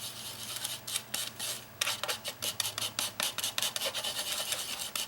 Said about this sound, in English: I'm going to shake my glitter into my varnish And I will need a palette knife to stir that